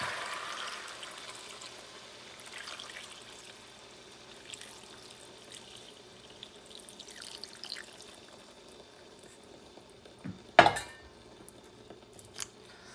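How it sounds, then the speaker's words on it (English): Water poured into a pot for Puerto Rican beef tripe soup, a soft steady stream trickling in close by over several seconds, ending with a brief louder clatter of the pot near the end, no voices. "Time to put some of the water."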